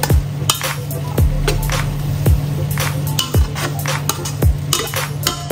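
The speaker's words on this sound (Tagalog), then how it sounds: "Haluin natin ulit para kumarap yung lasa ng liver spread." A spoon scrapes and clanks through bopis mixed with liver spread in a pan, in four or five steady, rhythmic stirring strokes heard up close over a low background hiss. No one speaks.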